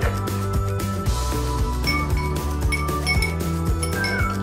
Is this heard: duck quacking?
no